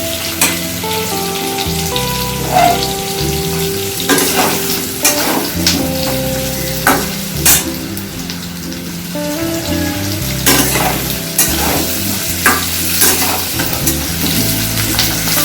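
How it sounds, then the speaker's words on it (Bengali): Two large chopped onions fry with potatoes in a pan for a Bengali egg curry, giving a steady close sizzle broken by repeated scraping stirs throughout, with no talk. "পেঁয়াজটা ভাজা ভাজা হয়ে গেছে"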